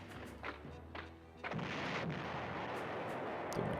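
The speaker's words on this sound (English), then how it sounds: "We do have some artillery support" Artillery fire in the Panzer General retro war game, a few muffled booms followed by a long, loud rumbling roar that lasts to the end.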